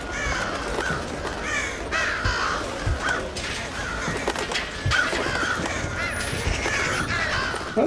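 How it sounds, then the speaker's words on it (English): Crows cawing in the video game Thief: a dense, steady chorus of many harsh caws overlapping without pause, loud and close, over a constant noisy ambience. "So many birds."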